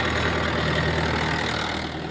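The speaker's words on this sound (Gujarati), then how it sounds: "આ ટાઈપનું ખેતરમાં ધરો કાઢવા માટે સ્પેશિયલ રોટોવેટર લઈને આપણે આવ્યા. ટ્રેક્ટર લઈને" A tractor working with a rotavator in a field to clear couch grass, giving a steady close engine drone with a rough low rumble throughout, loud and uninterrupted, with no talking.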